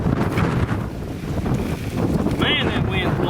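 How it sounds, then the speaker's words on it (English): Strong wind gusts buffet the microphone outdoors while setting coyote traps along a trail, a loud continuous rushing roar. "Man, that wind's blowing."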